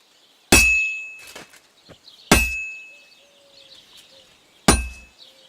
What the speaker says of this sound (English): You've got to hammer the workpiece evenly. One hit next to the other.